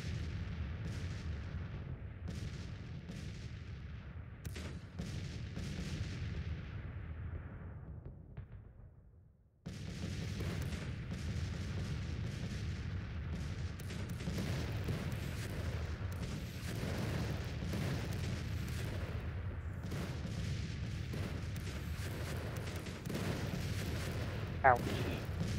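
Civil War battle in the strategy game Grand Tactician: The Civil War, with a steady din of artillery booms and massed rifle fire that briefly cuts out near the ten-second mark and then resumes.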